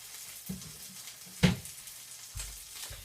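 Onion and meat frying in a pan over lowered heat, a soft sizzle underneath with a few sharp clacks and scrapes of stirring, quiet and close.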